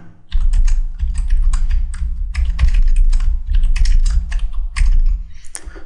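Rapid keystrokes on a computer keyboard while cutting data is entered into CAM software, clicking steadily and close for several seconds with brief pauses, no talking.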